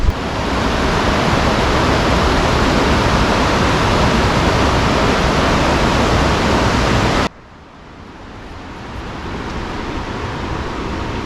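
Loud rushing water in a Spanish village roars steadily for several seconds, then cuts to a softer, more distant flow that gradually swells again.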